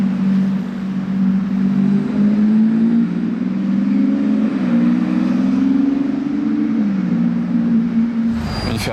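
A McLaren supercar with a manual gearbox drones steadily from a distance, its engine tone rising and dipping slightly as it draws nearer, loud and continuous before a sharp burst at the end.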